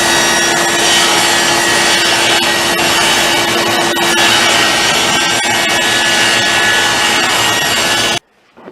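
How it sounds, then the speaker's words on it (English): A power saw blade cuts a wooden dado for a chest of drawers, a loud continuous whining rasp with a steady tone and chattering grit, stopping abruptly near the end. "running the saw blade right up against this lower end of the dado and just taking the dado out"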